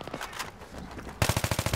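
Gunfire in Battlefield 3 during a multiplayer match: a spray of scattered shots, then from the midpoint a louder, close burst of rapid automatic fire with evenly spaced heavy reports, no voices.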